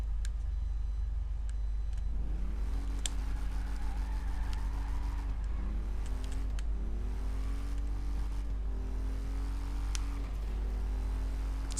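Motorbike engine in the video game GTA V revs and climbs in pitch several times, dropping back between pushes, a steady loud motor drone throughout with no talking.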